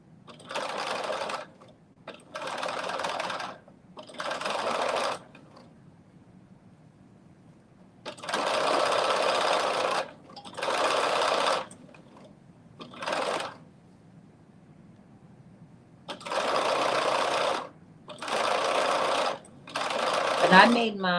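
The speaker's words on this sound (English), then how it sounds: "I am now going in and stitching this all the way around" A sewing machine stitches around a reversible fabric bonnet in short bursts of fast, buzzing stitching, about nine runs of a second or two each separated by quiet pauses, close and clear.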